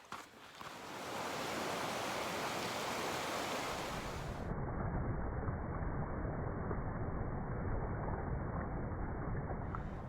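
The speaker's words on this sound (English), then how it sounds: "I stopped at a campsite right next to Rushing Water Creek" Rushing water of a creek beside a campsite, a loud, steady broadband wash that fills the whole stretch without pause, close to the microphone and with no voices over it.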